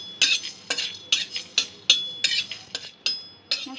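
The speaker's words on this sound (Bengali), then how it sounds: "মশলাটা হালকা ব্রাউন হয়ে যাওয়া পর্যন্ত এবং সুগন্ধ আসা পর্যন্ত একটু ভেজে নেব।" Whole spices dry-roasted in a pan for a rohu fish curry, stirred with a spatula: about ten sharp, evenly spaced scraping strokes, close and fairly loud, with no talk.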